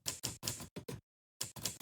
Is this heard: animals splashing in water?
no